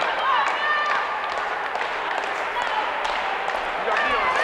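A wrestling crowd at a New England pro wrestling show cheers and claps steadily, a dense continuous roar with scattered whistles throughout, loud and close.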